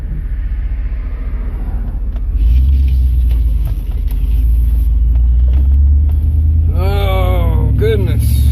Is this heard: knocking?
no